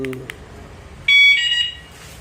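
A BHT aftermarket alarm fitted to a Yamaha R15 VVA motorcycle chirps a few short beeps, then a loud, sustained electronic siren with warbling tones cuts in for about a second before fading.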